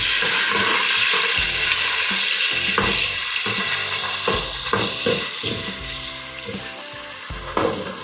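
Green chillies crackle and sizzle in hot oil in a pan, a loud steady frying hiss broken by intermittent stirring scrapes and knocks close by.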